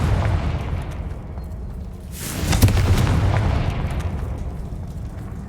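A Confringo fire spell bursts in Hogwarts Legacy, a sudden whooshing blast that swells into a sustained rumbling explosion with crackle, loud and close.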